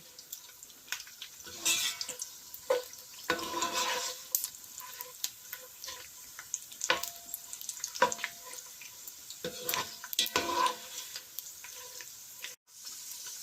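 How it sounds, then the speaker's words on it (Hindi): Almonds fry on a low flame for a few seconds, giving a soft, continuous sizzle with scattered clinks and scrapes of stirring, close and moderately loud with no talk. "और फ्यू सेकंड के लिए इसको फ्राई करेंगे।"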